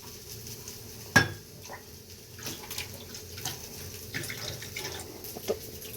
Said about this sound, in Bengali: তুলতুল এখানে জল নিয়ে খেলা করছে